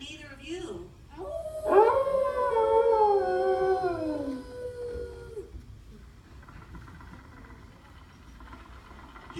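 Rover the dog lets out a single drawn-out howl that rises and then slides downward over a few seconds, with a short bit of talking just before it and faint background noise afterward.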